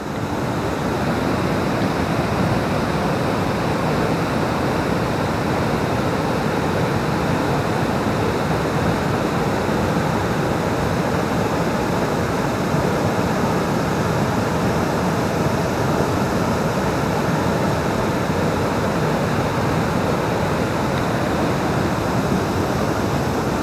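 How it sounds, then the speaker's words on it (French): A waterfall roars in a dense, unbroken rush of water, loud and close, holding steady with no other sounds. "juste derrière moi, la très belle cascade"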